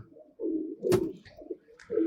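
Domestic pigeons coo close by, a few low, throaty coos in quick succession with short pauses between them and no talking.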